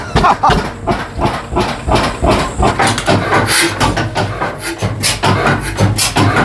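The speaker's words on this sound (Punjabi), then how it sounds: "ਅੱਜ ਤੁਹਾਨੂੰ ਅਸੀਂ 53 ਸਾਲ ਪੁਰਾਣਾ ਇੰਜਨ ਵਿਖਾਵਾਂਗੇ 1970 ਵੇਲੇ ਦਾ ਇੰਜਨ" A 53-year-old diesel engine from 1970 runs with a loud, steady, rhythmic chugging that pulses evenly throughout, with no one talking over it.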